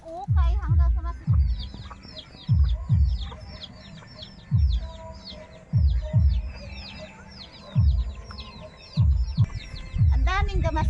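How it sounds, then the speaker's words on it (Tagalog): Chickens cluck repeatedly close by in uneven bursts, with high chirps and a few rooster-like calls scattered through, in a small pechay garden, while a voice is faintly present. "mga manok"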